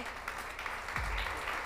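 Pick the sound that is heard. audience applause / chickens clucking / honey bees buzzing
audience applause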